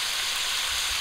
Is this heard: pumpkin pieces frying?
yes